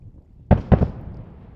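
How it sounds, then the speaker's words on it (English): Two sharp, loud sonic booms from a returning SpaceX Falcon 9 booster landing at Landing Zone 1, Cape Canaveral near Kennedy Space Center, a heavy thump followed a quarter second later by a second, with a brief rumbling tail. "We just heard two sonic booms here at Kennedy Space Center."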